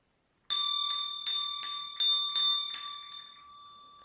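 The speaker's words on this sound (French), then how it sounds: "J'ancre les suggestions en faisant sonner la petite cloche." A small bell rings seven times in an even rhythm, each strike a clear, bright chime that lingers, close and alone in a quiet room, with the last tone fading out.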